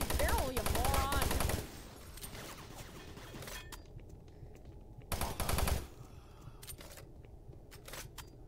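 Gunfire from the Doom 3 video game, with loud bursts of rapid shots near the start and again around the middle. Quieter stretches between them carry low rumble, mechanical ambience and a few faint clicks.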